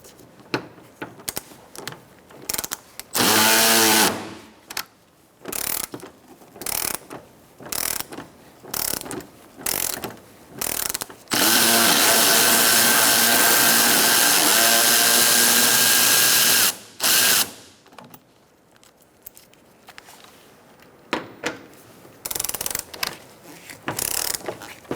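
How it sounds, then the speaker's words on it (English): Socket ratchet loosening bumper bolts on a 2014–2019 Kia Soul. Bursts of rapid clicking ratcheting alternate with short pauses, and a long sustained whirring run sits in the middle, all close and loud with no talking. "Use a 10mm socket and remove this bolt and also the one on the other side."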